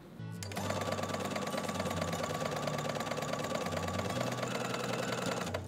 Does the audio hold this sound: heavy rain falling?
no